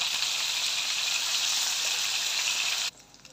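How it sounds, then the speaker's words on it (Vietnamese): Vegetarian fish being shallow-fried in hot oil in a pan, a steady loud broadband sizzle that holds without talk and then cuts off abruptly near the end. "Rồi dầu nóng rồi mình cho cái cá chay vô đây mình chiên sơ ha."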